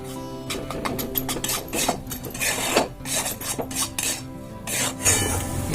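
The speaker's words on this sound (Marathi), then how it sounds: "आता ह्याच्यावर अजून हे 2 चमचे तूप आपण अजून टाकून चांगले भाजून घेऊया।" Besan flour roasting in ghee is stirred in a pan with a metal spoon, giving close, rhythmic scraping and rasping strokes against the pan bottom in quick bursts.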